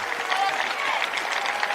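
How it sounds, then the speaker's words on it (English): Crowd applause at the NFL Scouting Combine following a tight end's 40-yard dash, a dense, steady wash of clapping heard at moderate distance for under two seconds. "Well-deserved round of applause."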